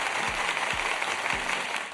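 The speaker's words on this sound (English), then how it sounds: "we want to clap it up for these young graduates" A short burst of dense, steady clapping for young graduates, with a few low thumps and no voices.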